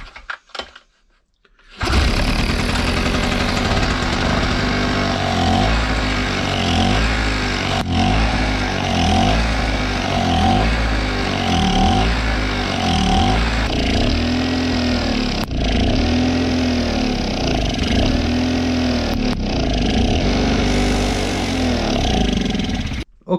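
A Power Craft 720 two-stroke portable generator engine runs and revs loudly and steadily for over twenty seconds after a brief quiet start, its buzzing drone rising and falling slightly in pitch.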